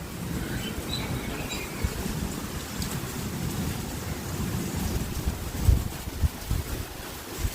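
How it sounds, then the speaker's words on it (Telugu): Wind and rain lash an outdoor spot in a steady broadband roar, with gusty low rumble and a few louder buffets near the end; no voices are heard. "వర్షం, గాలి వర్షం ఫ్రెండ్స్."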